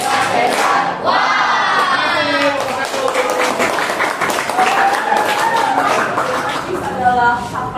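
A classroom group applauds and cheers together in a rhythmic chant-like clap, loud and close, with voices shouting over the clapping throughout.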